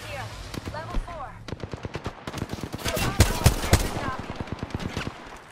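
Rapid gunfire in the video game Apex Legends crackles in sustained automatic bursts, with several heavy, booming shots mixed among the rattling rounds, loud and continuous under faint voice lines.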